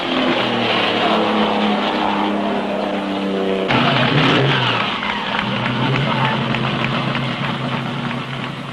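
A 25-year-old ERA racing car, driven by Patrick Lindsay, roars past on the final lap of a 100-kilometre race. Its loud engine note climbs, peaks and then fades away, with a crowd faint in the background.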